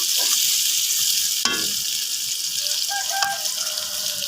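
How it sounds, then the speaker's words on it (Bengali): Chopped tomato is stirred in a frying pan over a steady bright sizzle, with a single scraping knock of the utensil partway through and a faint clink near the end. "টমেটো কুচি দিয়ে নাড়তে থাকতে হবে।"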